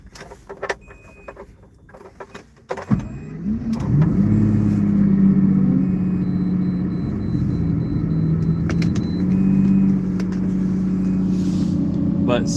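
A Lamborghini Diablo engine starts up and pulls under acceleration, a steady loud drone that rises through the revs after a few seconds of quieter interior noise, with a voice speaking underneath.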